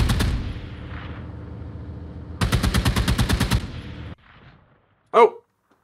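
M113's .50 cal machine gun firing in the PC tank simulator Gunner HEAT: a loud rapid burst of evenly spaced shots over rumbling engine noise, then a quieter pause and a short voiced exclamation.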